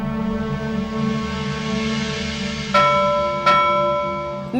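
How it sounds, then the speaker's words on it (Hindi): A bell rung twice in a domestic drama scene, two sharp bright strikes about a second apart, each ringing out and decaying, over a steady background music bed. "मैं कहती हूँ बंद कर घंटी बजाना"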